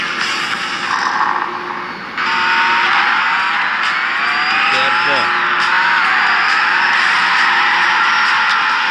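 Car X Drift video game car drifting with a revving engine and tire squeal, loud and continuous with rising and falling pitch sweeps, after a brief quieter start.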